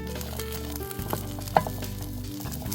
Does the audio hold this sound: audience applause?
no